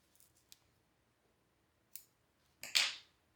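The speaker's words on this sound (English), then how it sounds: "cutting my yarn" Scissors snip through crochet yarn at the end of a row: a few faint clicks of the blades, then one crisp, close cut, with no talking.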